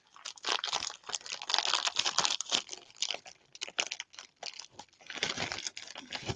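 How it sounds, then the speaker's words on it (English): Plastic bag being handled while a purchase is packed for shipping, giving dense crinkling and crunching in irregular bursts, close and fairly loud, with no talking. "Then they put it in another plastic bag."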